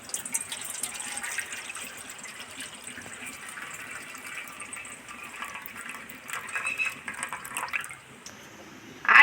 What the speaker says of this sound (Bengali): ভালো করে কচলে কচলে ধুয়ে 2-3 বার জল ফেলে দেব